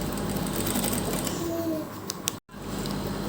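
A sewing machine runs steadily while stitching piping onto a kurti, close and moderately loud, slowing briefly before a short cut-off near the end.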